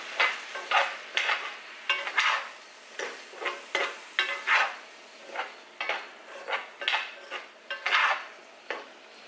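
Food for smoked stuffed peppers being stirred in a pot or pan, rhythmic scraping strokes of a utensil against metal repeating about every half second, close and clear with no talk.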